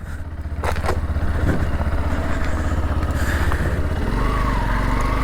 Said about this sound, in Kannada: ಇಲ್ಲೆಲ್ಲ ಸೂಪರ್ ಬೈಕ್ ಸೌಂಡ್ ಕೇಳತೈತಿ ಗಾಯ್ಸ್